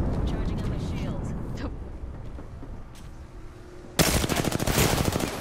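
Video game gunfire that includes a Kraber sniper rifle: softer game noise and voices run for about four seconds, then a loud burst of rapid, repeated shots takes over to the end.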